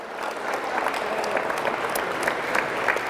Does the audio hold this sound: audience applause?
yes